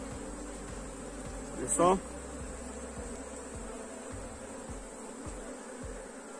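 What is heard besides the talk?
honey bee swarm buzzing at hive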